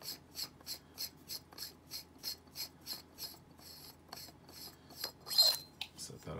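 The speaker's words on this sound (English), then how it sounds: "To open up the saber, you just open it up at this joint right here" Lightsaber hilt being unscrewed at its joint, a quiet series of rhythmic rasping scrapes from the threads turning, close up and faint.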